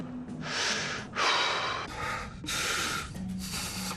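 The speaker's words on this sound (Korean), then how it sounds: "저 따라서 심호흡을 한번 해보십시오" Several deep breaths in and out, each a loud rushing inhale or exhale close to the microphone, spaced about a second apart, alone without talk.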